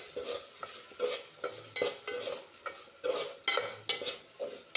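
A chickpea curry with turmeric is stirred in a pan, giving rhythmic scraping strokes, roughly two per second, over a faint sizzle, close and moderately loud with no voices.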